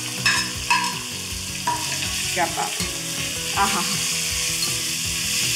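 Mustard seeds, cumin, asafoetida, curry leaves and finely chopped onion sizzle and crackle loudly in hot oil in a Maharashtrian home kitchen, with steady frying noise, stirring clatter and a brief exclamation from a voice.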